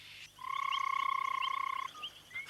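A frog gives a mating call, a single loud pulsing croak lasting over a second, close and clear against quiet background.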